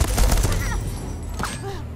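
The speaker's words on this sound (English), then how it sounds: "the heavy machine gun sounding like a slot machine" A heavy machine gun fires in Deathloop, a rapid, loud rattle of closely spaced shots at the start that thins into scattered metallic clinks and game sounds, with narration faintly present.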